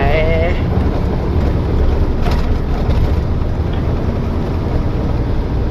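A loaded Hino 344 truck climbing a steep hill in eighth gear, with a loud, steady engine drone and rumble plus cab and wind roar, and a voice briefly audible over the noise.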